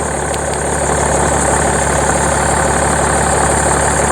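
A steady, rumbling diesel engine of a BMW 5 Series E61 525d Touring idles close by, a constant low drone with no change in pace for the whole stretch.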